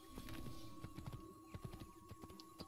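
Horse hooves clip-clopping in the Assassin's Creed video game, a steady run of close, distinct hoof thuds with occasional whinnies over continuous game ambience.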